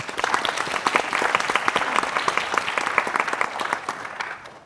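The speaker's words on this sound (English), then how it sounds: "they all deserve a huge round of applause" An audience at a healthcare innovation pitch event gives the finalists a dense, steady round of applause that stays loud throughout and tapers slightly at the end.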